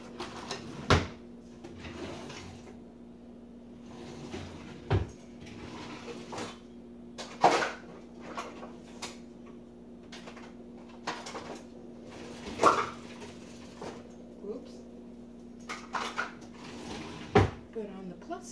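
Kitchen drawers and cupboards are opened and closed during soap making, producing a series of sharp knocks and sliding thumps spaced a few seconds apart over a constant low hum, with speech around them.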